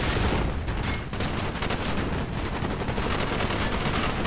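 Gunfire in Call of Duty Black Ops, loud continuous bursts of automatic weapons fire crackling close and without pause for the whole stretch.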